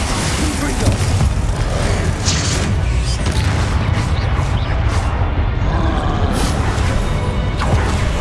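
Confringo blasting spells explode in Hogwarts Legacy amid combat, heavy booming bursts over a dense rumbling battle soundtrack, with shouted spell casts over the din.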